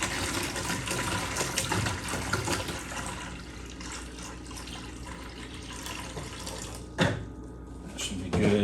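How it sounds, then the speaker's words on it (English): Steady rushing filtered water pours continuously into a bucket, a broad hiss with a brief louder splash near the end; faint speech sits underneath. "now we're going to put in about half a gallon of water"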